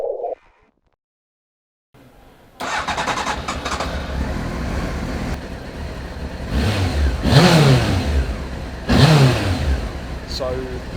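A 1996 Honda CBR900RR Fireblade motorcycle engine starts up and revs, its loud, close roar climbing in two sharp throttle blips over a steady running drone.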